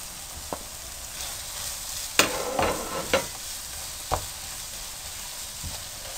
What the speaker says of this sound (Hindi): इसमें आलू भी डाल दें।